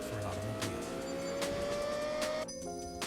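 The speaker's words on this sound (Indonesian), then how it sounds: "Karena barisan silindernya ganjil 5 dan 5, ritme ledakannya ngasilin frekuensi tinggi yang nyaris nggak ada bassnya." A V10 supercar engine gives a thin, high-pitched, steady drone with almost no bass, close by and holding its pitch before a brief shift near the end.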